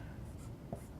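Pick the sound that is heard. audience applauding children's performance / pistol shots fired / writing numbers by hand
writing numbers by hand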